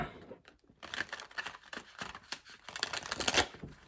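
A large tarot card deck is shuffled by hand close up, with rapid, uneven bursts of crisp card riffling and rustling. No one talks.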